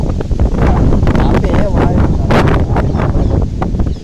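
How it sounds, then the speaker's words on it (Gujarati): Strong wind buffets the microphone in a steady, loud outdoor roar, with a voice faintly talking beneath the gusting noise. "પવન પણ એટલો છે થોડોક વધી ગયો છે પવન"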